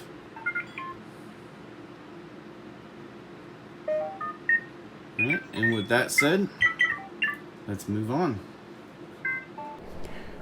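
A Star Wars Galaxy's Edge Droid Depot droid chirps and warbles in a rapid series of electronic beeps and whistles, mixed with someone talking over steady background hum.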